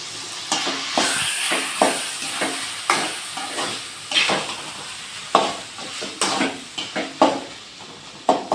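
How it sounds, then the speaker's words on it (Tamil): Tomatoes sauté in a pan for a beef intestine curry, a soft background sizzle broken by a regular rhythm of spoon scrapes and clacks against the pan, close up with no talking. "இந்த ஸ்டேஜில் சேர்க்கும்போது நல்லா தக்காளி வதங்கிடும்"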